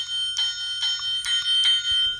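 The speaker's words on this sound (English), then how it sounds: "the original bell with the exact sound sample from the show" Bell on a Hector Salamanca bobblehead figure rings in a quick series of about six bright, close dings, each fading before the next.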